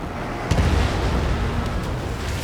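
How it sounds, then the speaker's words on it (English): Missile launch and explosion in the Ace Combat 7 flight combat video game: a sudden heavy boom followed by a sustained roaring rumble with a few sharper cracks later. "missile away"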